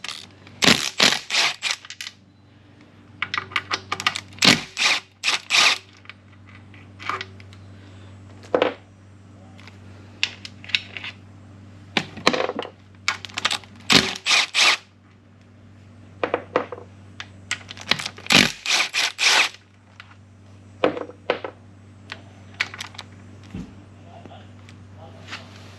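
Bolts being loosened and removed from the reverse servo of a TH400 automatic transmission during a teardown, using a 1/2 inch wrench or socket: close, irregular metallic clicks, ratcheting and clinks of tools and parts over a steady low hum.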